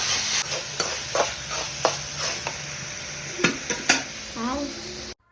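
Onion, tomato, ginger, garlic and curry leaves sautéing in coconut oil for a chicken curry, a loud steady sizzle broken by repeated spatula scrapes and clacks against the pan, ending in a brief cutoff.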